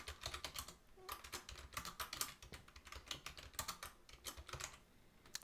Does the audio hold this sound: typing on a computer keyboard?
yes